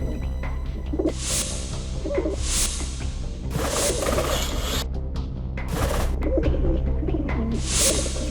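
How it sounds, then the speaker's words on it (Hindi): Pigeons coo on and off, their soft murmuring calls mixed with bursts of hissing noise over a steady low background rumble. "कबूतर भी किसी पोस्टमैन से कम नहीं होते।"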